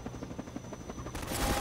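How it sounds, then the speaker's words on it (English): A helicopter drones in the video game Half-Life 2 Episode 2 with rapid bursts of gunfire rattling over it, ending in a louder blast of noise near the end. "Since you brought that chopper in on your tail, you want to maybe help us take it down?"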